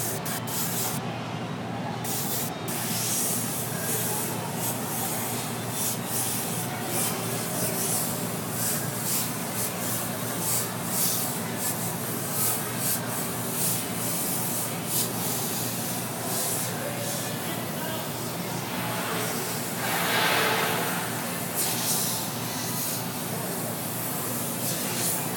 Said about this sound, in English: But I've gotten used to just spraying at an angle.